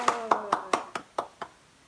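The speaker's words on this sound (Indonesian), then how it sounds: "Tepuk tangan buat Tuhan Yesus." Children clapping hands together at a kids' church service, about seven sharp evenly spaced claps in a quick steady rhythm, close and fairly loud.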